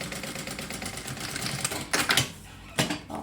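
Sewing machine stitching along the edge of a lining on a double-opening zippered pouch, a close rapid mechanical chatter in short bursts separated by brief pauses.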